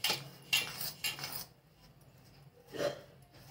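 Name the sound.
spoon stirring hot oil into murukku flour mixture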